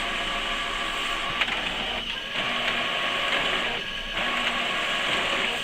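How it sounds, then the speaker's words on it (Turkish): An HP Pro X476 ink-tank printer running steadily, mechanical whirring and feeding with brief pauses and clicks as pages pass through, about one full-density page per second, close and continuous. "yaklaşık 1 saniyede bir sayfa tam yoğunlukta çıktı almaktadır"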